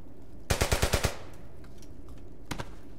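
In the WWII shooter Brothers in Arms: Hell's Highway, a close, loud burst of about six rapid automatic gunshots rings out, then a shorter, fainter burst follows after a pause.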